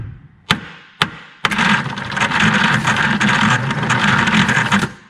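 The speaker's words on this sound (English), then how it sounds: "Let's tap the starter again while I hold the switch down." The starter of a 1957 Lloyd LP600 with a no-start fault gives three sharp clicks, then cranks the engine in a loud, steady, rough churning whir for several seconds before cutting off.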